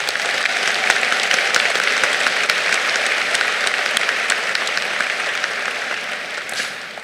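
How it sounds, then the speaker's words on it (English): Sustained applause from a crowd at a 2021 high school graduation ceremony, a steady wash of many hands clapping with a few sharp claps and cheers standing out, tapering slightly near the end. "I think that deserves a round of applause"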